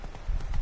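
Hooves of the horse Roach clip-clopping in a PS4 video game, a quick run of soft thuds over a low rumble, close and moderately loud, with no talk.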